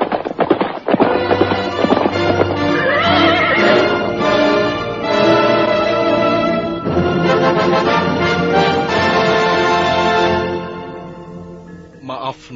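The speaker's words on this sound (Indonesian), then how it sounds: "dari jauh terdengar 2 ekor kuda berderap semakin lama semakin dekat" Two horses gallop closer with a clip-clop of hooves and neighing, set within a dramatized audio drama and partly under music, with a voice at the start.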